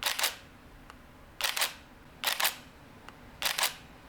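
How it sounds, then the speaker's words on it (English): Four crisp, quiet shutter clicks from a Nikon D3000 DSLR camera, each a quick double snap, spaced about a second apart against a quiet background. "It has a very nice and quiet shutter sound"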